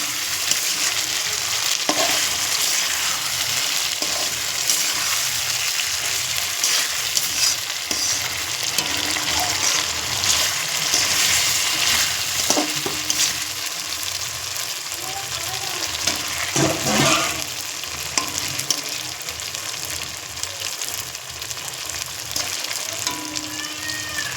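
Chicken kosha is stir-fried in oil with a loud, dense, continuous sizzle close by, punctuated by irregular spatula scrapes and stirring knocks throughout.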